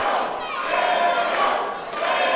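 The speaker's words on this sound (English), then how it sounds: "And the crowd rallying behind Sparrow." A wrestling crowd at an independent pro wrestling show roars and chants in a loud, continuous wave of cheering that swells and dips without pause.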